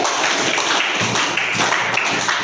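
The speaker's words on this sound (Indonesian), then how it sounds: "silakan berikan tepuk tangan dulu buat Satria" Students in a classroom clap together for a classmate, a dense steady patter of hands lasting the whole moment with no voices over it.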